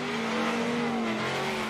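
A Dodge Viper drifting at a Formula Drift event, a loud sustained engine roar with steady high revs and tire noise filling the whole moment, close and continuous.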